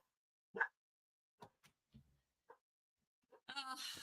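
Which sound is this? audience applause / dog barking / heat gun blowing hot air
dog barking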